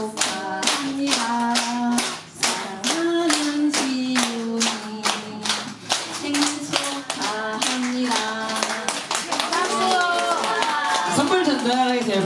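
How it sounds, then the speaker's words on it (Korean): Steady rhythmic hand clapping from guests at a baby's first birthday party, keeping time under a group singing a birthday song throughout, getting looser near the end. "박수를 드리겠습니다"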